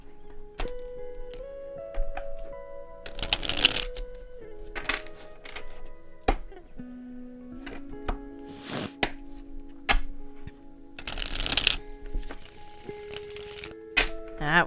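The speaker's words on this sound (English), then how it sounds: "That was a good shuffle." Oracle cards are shuffled by hand during a tarot reading, with two or three short, brisk riffling bursts spread among soft taps. Gentle background music plays throughout.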